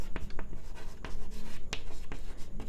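A marker or chalk writing on a board during a geometry lesson on triangles, a quick run of sharp taps and short scratchy strokes.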